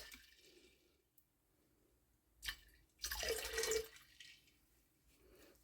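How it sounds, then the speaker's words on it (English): Lemonade is poured into an Azalea cocktail in a short, close splashing pour lasting under a second, set against a faint, quiet room. "We're going to shake up our lemonade. And we're going to pour in"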